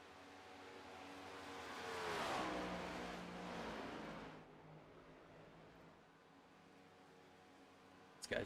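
Stock cars in iRacing at a superspeedway trailing a pace car: a moderately loud engine roar swells and passes around the two-second mark, then fades into a low steady drone, with a brief sharp sound at the very end.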